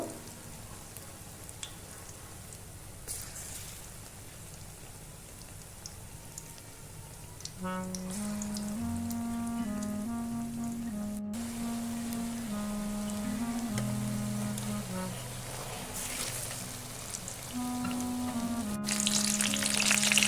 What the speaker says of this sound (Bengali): লাল লাল করে আমি দুপাশে ভেজে নেব